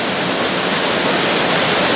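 Water rushes over a dam on a creek, a loud, continuous broadband roar that stays steady throughout with no voices.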